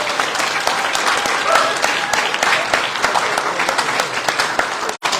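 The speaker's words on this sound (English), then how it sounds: "let's give again a big, huge round of applause to all those organizations." Audience applause at a community celebration, a dense, sustained burst of many hands clapping that fills the room at close range, briefly cut off near the end.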